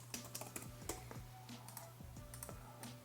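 Quick bursts of keystrokes on a computer keyboard, soft close clicking in an uneven rhythm as a short folder name is typed, faint and without voices.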